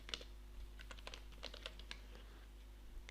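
Keys clack on a computer keyboard in quick, uneven bursts of typing, soft and close, over a low electrical hum, with no voices.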